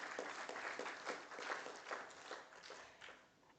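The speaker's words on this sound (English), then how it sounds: "I'll ask you to clap for him again" Sparse, faint clapping from a small arbitration conference audience, individual claps audible in a loose rhythm that thins out over a few seconds.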